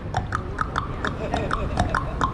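A voice imitates percussion with a rhythmic beatbox pattern of short clicks and mouth pops, evenly spaced at a moderate tempo and close to the microphone.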